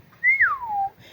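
A reader's voice imitates the wind whistling past Alice's ears: a single clear whistle that swoops up, holds, then glides smoothly downward for about a second, alone and fairly close.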